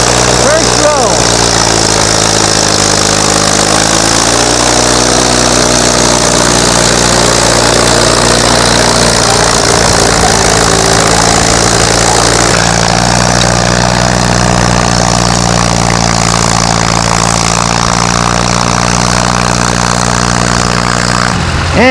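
Antique tractor engines run steadily at a plow day, a loud, continuous low rumble with harmonic drone that shifts in pitch as one tractor pulls in, with a faint voice over it.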